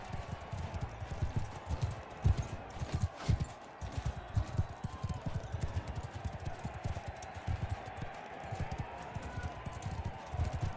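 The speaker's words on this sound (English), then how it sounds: "Oh, at least I've got a horse." Horse hooves clip-clop in an uneven, busy rhythm during a medieval battle in Mount & Blade II: Bannerlord, faint but continuous with no talk over them.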